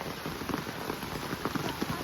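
Monsoon rain pours steadily near a swollen river in Khed, Bharane, making a dense pattering hiss with scattered close drops ticking on surfaces throughout, and no one talks.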